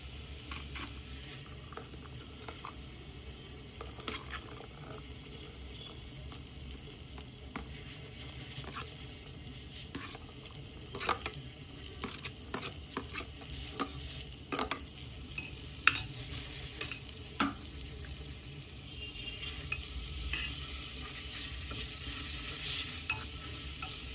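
Small shallots frying with a little salt in a pan for mutton and cabbage kothukari, a steady sizzle with scattered scraping stirs and clinks throughout, no talking.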